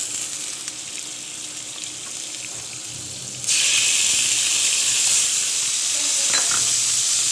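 Butter sizzling loudly in a pan with fried chicken wings, a steady close crackle that jumps sharply louder partway through as the butter hits the hot pan.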